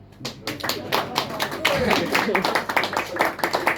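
Audience at a poetry reading clapping in a brief burst of sharp, close claps that overlaps a voice speaking over it.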